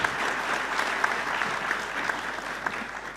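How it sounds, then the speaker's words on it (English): Sustained applause from a symposium audience for the speakers, a steady wash of many hands clapping at moderate distance with occasional sharper individual claps, no talk over it. "Round of applause, please,"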